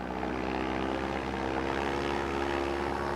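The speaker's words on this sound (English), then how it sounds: "the left engine conked out" An airplane engine drones at close range as a steady, continuous propeller hum with a low pulsing rumble and no clear break or sputter.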